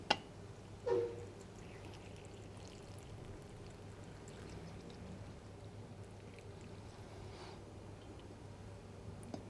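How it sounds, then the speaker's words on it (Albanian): Hot water pours steadily into a teapot over herbal tea of oregano and thyme, a soft continuous stream running several seconds after a brief clink, close and alone without talk. "do të hedhim 4-5 lugë gjelle çaj kandimer dhe në të hedhim ujë që ta përvëllojmë atë"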